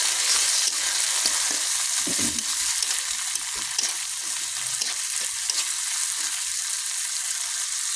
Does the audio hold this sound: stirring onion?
yes